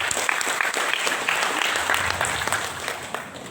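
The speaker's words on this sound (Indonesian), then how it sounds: "Mari kita berikan tepuk tangan untuk seluruh narasumber kita." Seminar audience applauding the speakers at a national agriculture seminar, a dense, steady wash of clapping hands filling the room for several seconds without pause.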